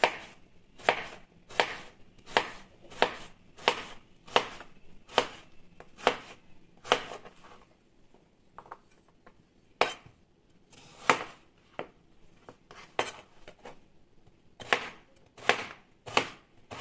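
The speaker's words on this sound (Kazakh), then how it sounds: "Ең алдымен жуылған қиярымызды тазалап, екіге бөліп, оны ұсақтап тураймыз." Washed cucumber being finely chopped with a knife on a board for a teriyaki salad, a steady run of crisp, close taps in quick bursts with a short pause midway, no voices.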